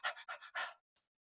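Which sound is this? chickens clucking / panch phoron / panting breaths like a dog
panting breaths like a dog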